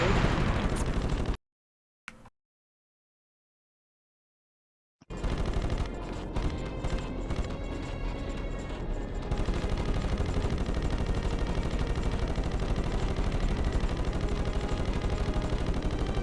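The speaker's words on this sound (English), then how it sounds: "Fire the machine guns and press the circle button to fire off more missiles." Fighter jet machine guns rattle in rapid continuous bursts with missile launches and explosions in Ratchet and Clank combat, loud and dense, broken by a brief silent gap before the firing resumes.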